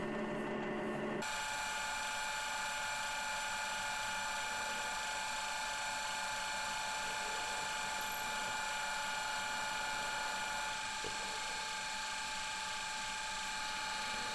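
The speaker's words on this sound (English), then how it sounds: "And it's a 22mm hole I'm drilling in there." A steady mechanical whir and grind of a pillar drill boring a 22mm hole in yew wood with a new bit runs continuously throughout, dense and even with a constant high whine, no voices.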